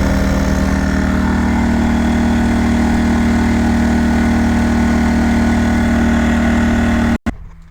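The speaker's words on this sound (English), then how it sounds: "I went ahead and turned the generator off because we don't need to listen to that" A generator runs nearby at a loud, constant, droning idle, steady throughout before cutting off abruptly near the end.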